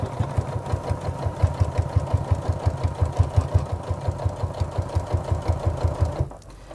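A sewing machine stitching a zip onto a bag at standard stitch length, running at a steady, even pace close by before stopping abruptly near the end.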